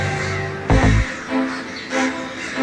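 Crows caw in a prison yard at Serbia's biggest prison, where peacocks and cats also roam: a few loud, harsh calls repeat at a steady pace, with no voices.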